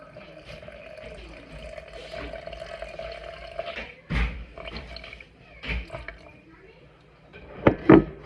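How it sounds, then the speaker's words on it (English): Water trickles and splashes in short bursts into a container of sourdough starter, fairly close and moderately loud, while someone talks over the pouring. "then you're gonna do 150 of water, 150 grams of water"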